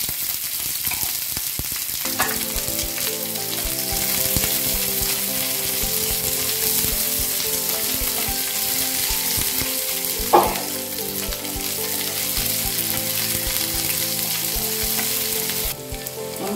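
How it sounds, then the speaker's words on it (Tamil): Cubed onion and capsicum fry in a pan for chilli chicken, a steady close sizzle running throughout with a couple of brief spoon knocks against the pan and no talking. "வெங்காயம் லேசாக வதங்கினா போதும்"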